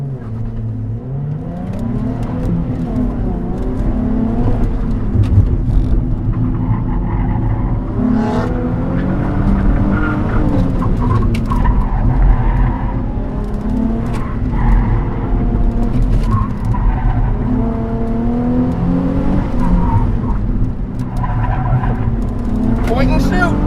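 A 2009 Nissan 370Z circling a race track, engine droning and revving steadily with squealing tires, while someone talks over it throughout.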